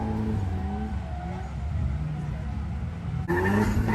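Onboard a drift car on a track, the engine roars and whines as revs rise and fall while the wheel is whipped. The engine is loud and close throughout and jumps sharply in level near the end.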